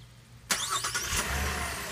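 2017 Buick Enclave engine starting by remote start: quiet, then a sharp crank and catch at half a second, followed by a brief flare in revs settling into a steady idle, close by with no talking.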